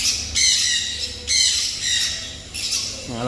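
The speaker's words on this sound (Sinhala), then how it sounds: "ඇෆ්‍රිකන් ග්‍රේ කෙනෙක් ඉන්නවා. මෙයාත් පැටියෙක්." Harsh, loud squawks from a young African grey parrot, three drawn-out bursts in close succession, nearby with no talking.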